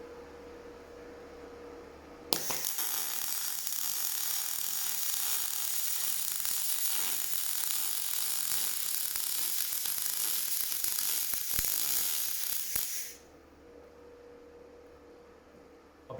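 A Hitbox 200A inverter MIG welder lays a bead on 2mm steel, a loud, steady crackling sizzle that starts abruptly, runs unbroken for about eleven seconds, then cuts off to a low background hum.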